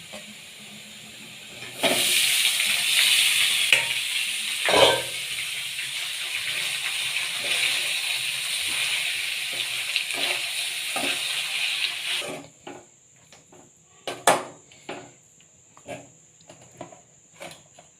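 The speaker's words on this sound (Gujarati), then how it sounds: "આપણે સરસ મજાની ડુંગળી અને દાણા બંને સતરાઈ ગયા છે તો હવે આપણે નાખશું તેમાં ભાત" Rice tipped into a pan of sautéed onions and peas sets off a loud, steady hiss of frying that runs for about ten seconds, then gives way to quieter scraping and clatter from stirring.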